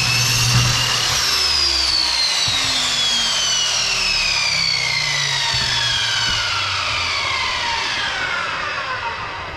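A power saw cuts through a wooden board for farmhouse-style shutters, a loud, steady whining roar held for nearly ten seconds with the motor pitch slowly falling as the blade works through the wood.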